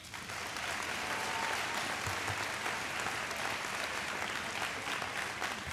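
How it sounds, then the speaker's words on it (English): A crowd at a high school athletic awards ceremony breaks into sustained applause, a broad, even clatter of many hands clapping that holds steady throughout. "Let's give them one big round of applause."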